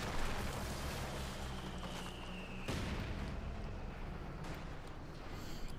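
Company of Heroes 2 match with a T-34 tank firing its main gun, a booming shot against a dense, continuous din of wartime battle effects with no clear pause.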